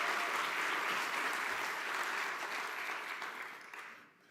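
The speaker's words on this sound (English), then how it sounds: "can we give Dr. Santelises a round of applause for the amazing work?" An audience at the United Way of Central Maryland annual meeting gives Dr. Santelises a round of applause, a dense, steady wash of clapping filling the room before fading out at the end.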